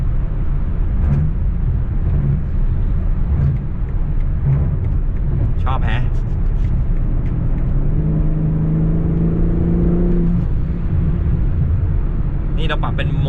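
BMW M4 G82 accelerating hard on the road, a loud continuous engine roar and rising rev heard from inside the car, with someone talking excitedly over it.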